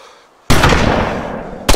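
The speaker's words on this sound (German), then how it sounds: "Klaus, guter Schuss." A single loud gunshot in the survival video game DayZ bursts in after a quiet moment and rings out with a long tail, followed by a second sharp report near the end.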